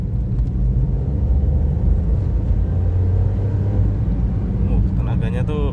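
Datsun Go Plus Panca engine accelerating in second gear, a steady low rumble heard from inside the cabin, loud and sustained, with a person talking over it.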